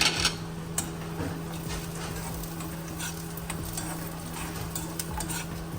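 Cashews and raisins fry in a pan for rava kanji, giving a steady low sizzle with occasional light clinks of a utensil against the pan, close and unbroken by speech.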